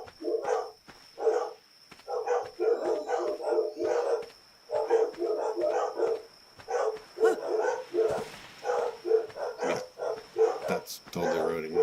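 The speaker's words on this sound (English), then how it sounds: "my dogs are barking like crazy" Several dogs bark in continuous rapid bursts at close range for the whole span, loud and insistent with only brief pauses between volleys.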